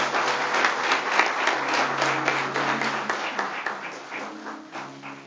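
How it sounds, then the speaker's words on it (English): A church youth choir anniversary audience claps steadily and warmly throughout, the applause gradually thinning out toward the end. "Can we give him a praise clap?"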